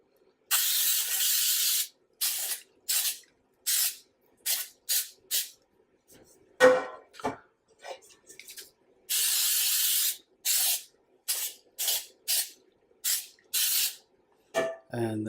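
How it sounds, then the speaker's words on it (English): Short, close bursts of non-stick cooking spray coat cake pans, over a dozen sharp hissing puffs in an uneven rhythm separated by silences, with a few quiet handling clicks in between. "Okay, so I'm going to spray down these pans."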